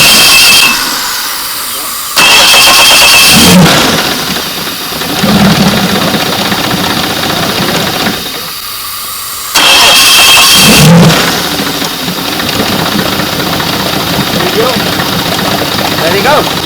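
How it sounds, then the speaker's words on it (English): A Suzuki four-stroke outboard motor, just cleaned during troubleshooting, cranks and starts twice, then settles into a loud, steady mid-pitched idle with brief revs, close by, while people talk over the running engine. "The engine start, no stop."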